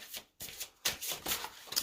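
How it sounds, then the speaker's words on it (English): Tarot-style cards from a Soul Journey deck being shuffled by hand in a quiet room, several close crisp riffling bursts separated by brief pauses, with no talking. "You can hear me shuffling."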